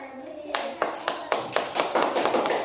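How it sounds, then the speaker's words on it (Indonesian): Children clapping their hands for a classmate in a classroom, a run of distinct sharp claps that thickens into a denser patter of many hands. "Tepuk tangan untuk kawan."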